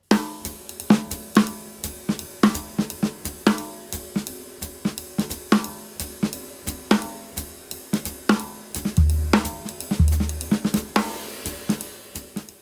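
A swinging jazz drum groove with a steady ride cymbal pattern, crisp kick and snare accents, played alone and fairly loud throughout.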